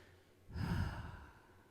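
A single slow, deep breath during a guided somatic breathing exercise, with a soft airy exhale that swells, peaks and fades gradually in a quiet room, close and alone without talk.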